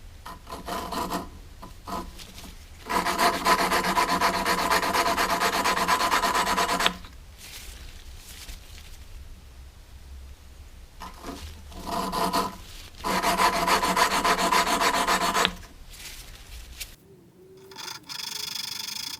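A Honda GX160 small engine intake valve is lapped with lapping compound, giving loud, close gritty rasping in two long sustained bursts separated by a quieter pause.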